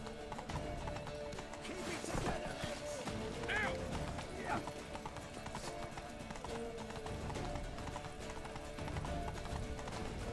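Horse galloping in The Witcher 3 video game: rhythmic clip-clop hoofbeats with a brief whinny, mixed under a player's talk and game sounds at moderate level.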